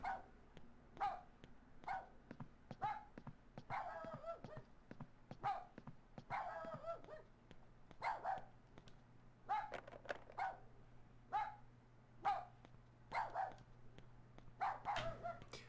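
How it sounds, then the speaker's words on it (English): A dog barks repeatedly at a distance, sharp single barks and short clusters recurring every second or so over a faint steady hum, with no talk. "the dog's barking is just kind of there"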